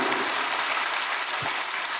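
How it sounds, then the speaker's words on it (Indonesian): Church congregation at a Sunday service applauding for God, a dense, steady wash of many hands clapping like heavy rain, loud and continuous with no talk over it. "Ayo tepuk tangan lebih baik lagi bagi Tuhan"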